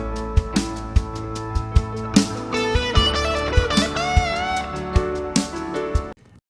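An electric guitar plays a rhythmic riff in sixteenth notes, the phrase shifted a sixteenth earlier, over steady punchy drum hits, with bright distorted sustained notes and bends before stopping abruptly.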